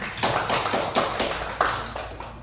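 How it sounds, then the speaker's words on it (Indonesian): Classroom applause for a pupil: a small group of children clap in quick, slightly uneven bursts, fairly close and steady for a couple of seconds with no talk over it. "Tepuk tangan buat si Firman"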